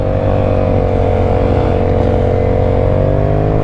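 A quad bike rides in at a motocross-style outing, its engine a loud, steady, close drone with a buzzy tone that holds without a break and no voices over it.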